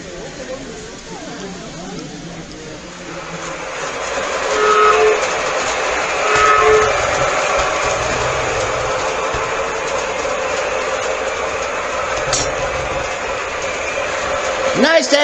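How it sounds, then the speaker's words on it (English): Diesel locomotives pull a train past with a steady engine drone and rail noise, a horn sounding briefly, while people talk over it. "Nice to actually see the right color diesels pulling that train, isn't it?"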